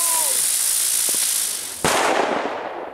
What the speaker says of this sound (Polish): Dobra, odpalamy motylka